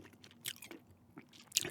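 Gum is chewed close to the mic in soft, wet smacks and clicks. The chews are irregular and quiet, and there is no talk.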